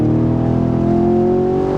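A 2023 Chevrolet Camaro SS 1LE V8 engine revs steadily with a deep, throaty rumble and smooth whine, loud and close, no voices.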